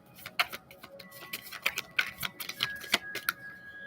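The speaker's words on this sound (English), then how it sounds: "I gotta shuffle these cards so freaking aggressively to get them to pop out" Oracle cards shuffled aggressively, giving a quick series of sharp, close taps and flicks in an uneven rapid rhythm, fairly faint, with no talking.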